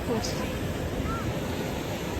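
Sea waves roll in at Digha beach in the evening, a steady, full, rushing wash of surf with no clear breaks. The sound is loud and close, with some wind blowing across the microphone.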